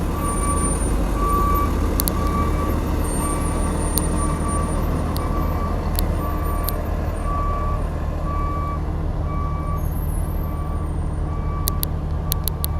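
A large truck moves behind and makes a three-point turn, a low rumbling engine under steady repeated reversing beeps and occasional sharp air-brake hisses, moderately distant and continuous.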